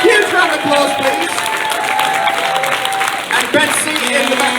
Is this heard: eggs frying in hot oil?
no